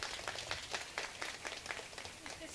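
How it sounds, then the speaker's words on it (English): Applause for the instructors at a high school equivalency graduation ceremony in 2022: a dense, steady patter of many hands clapping across the room, fairly faint and continuous throughout. "we need to give them a round of applause"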